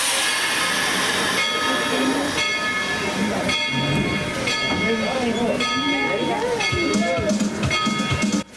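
Heritage steam train #190 on the Tweetsie Railroad pulling out, a steady rumble and hiss of rolling rail cars with steam noise running throughout, close and loud, under a narrator's voice.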